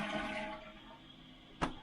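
A toilet with a newly installed flapper flushes, a rushing swirl of water that fades into a quieter refill trickle, followed by a sharp clunk near the end.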